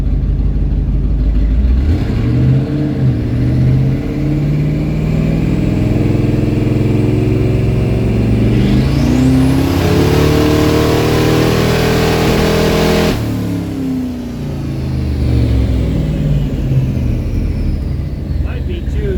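Twin-turbo 1954 Cadillac engine revving hard on a dyno, a loud continuous roar whose pitch climbs through a long pull toward the rev limiter and then drops back, with people talking over it.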